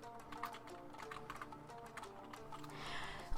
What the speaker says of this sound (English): I would type in the artist name